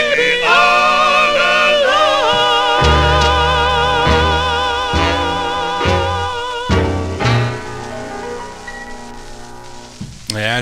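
A mid-1954 45 rpm single on the Harlem label plays loud and steady: a vocal group with backing band, slightly easing toward the end.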